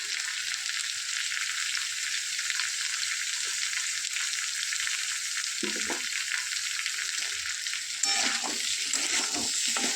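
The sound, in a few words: stir-frying pointed gourd and vegetables with spices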